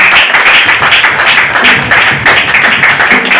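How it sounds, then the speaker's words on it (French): A church congregation applauds steadily throughout, a dense, loud, continuous wash of clapping with no pauses. "On acclame Jésus pour cela."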